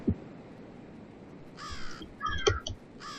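Crows caw in a bird simulator video game, a few harsh calls in quick succession in the second half, clear over a soft ambient background with no talk.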